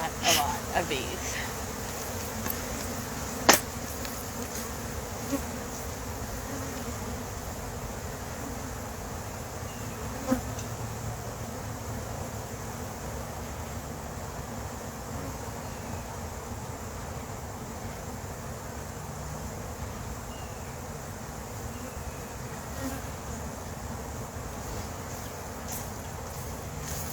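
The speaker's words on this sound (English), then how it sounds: "lot of bees." A swarm of honey bees hums continuously at close range, a dense steady buzz with a few sharp knocks and brief speech over it.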